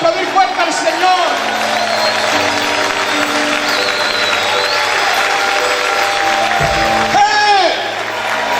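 A church congregation gives sustained loud applause that rolls on for several seconds, mixed with crowd noise and a voice speaking over it, easing off near the end.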